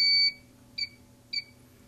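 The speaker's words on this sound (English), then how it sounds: "Now I'll hit the red button again and we'll hear that the little Morse code has changed." An I/S turbo adjustment controller sends out Morse-style electronic beeps: one long tone followed by two short dots, clear and fairly quiet in an otherwise still room.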